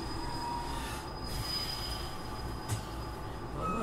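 A train running on rails in Japan, between Tokushima and Miyoshi, with a steady rolling roar and high squealing wheels sustained throughout, heard from on board, with no talking.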